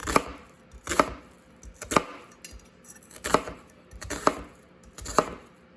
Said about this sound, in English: So I'm gonna cut my onion in half and slice it, chop it up this way.